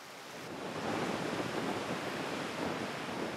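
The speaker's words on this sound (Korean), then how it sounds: "한쪽에서는 남태평양의 거센 파도 소리를, 다른 쪽에서 산호초 바다인 라군의 잔잔한 물결 소리를 동시에 들을 수 있습니다" Steady broadband rush of South Pacific surf on a low coral atoll, with calm lagoon ripples on the other side, a continuous wash of waves with no distinct breaks, fairly quiet.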